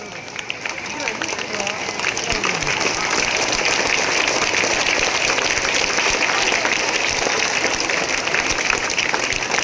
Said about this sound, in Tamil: ஒரு நிமிடம் எழுந்து நின்று நீங்கள் கைத்தட்ட வேண்டும்